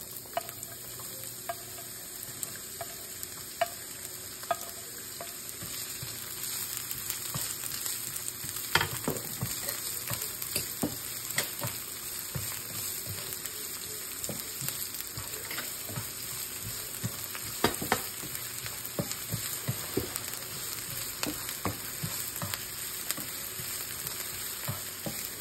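Onion fries in a pan for palabok sauce as it is stirred toward browning, a steady close sizzle broken by repeated spatula scrapes and knocks against the pan, with no talking.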